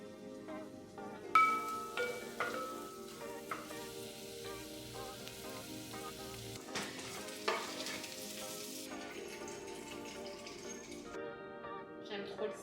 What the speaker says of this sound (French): On va faire revenir les oignons d'abord.